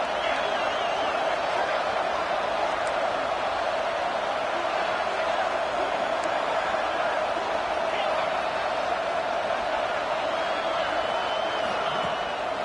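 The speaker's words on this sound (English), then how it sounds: "Listen to the crowd energy here in the early going" Stadium crowd in the Madden/College Football 25 video game, a steady roar of cheering fans holding at constant loudness throughout, with faint whoops rising now and then.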